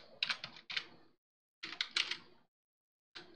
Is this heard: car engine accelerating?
no